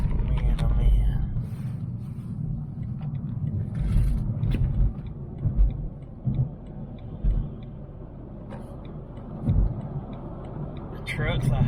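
Heavy transfer trucks roll past on a daily highway commute, heard from inside a BMW i3 REx electric car as a continuous low road rumble that swells with each passing truck, with faint voice murmurs in the background.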